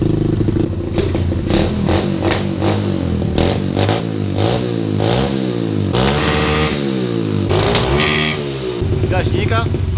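Vehicle engine running through a muffler, loud and rough, revving up and down with sharp popping backfires and clattering bursts scattered throughout, while someone talks over it.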